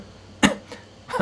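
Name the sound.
throat clearing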